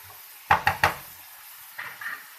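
A utensil clatters against a pan as vegetable filling for box patties is mixed over a high flame: three quick sharp knocks, then quieter scraping and stirring with a faint background sizzle.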